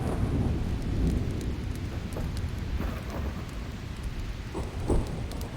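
Steady rain and rolling thunder ambience from the stormy lands of Hyper Light Drifter, a continuous low rumble under dense patter with scattered raindrop ticks.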